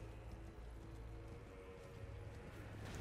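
Steady clip-clop of horse hooves in the video game Elden Ring: Shadow of the Erdtree, close and continuous, over a dense low rumble with no speech.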